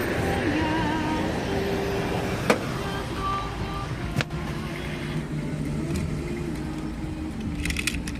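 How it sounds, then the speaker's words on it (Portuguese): Cars driving down a road, a steady traffic hum with engine drone, a couple of sharp clicks and faint distant tones over the continuous background. "E só carro descendo."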